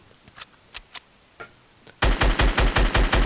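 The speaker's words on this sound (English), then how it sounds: "So I'm shooting some shots down there, trying to take him out." Gunfire in Fortnite: a few scattered, fainter shots first, then a loud, close burst of rapid, evenly spaced shots rattling out one after another, with no voices.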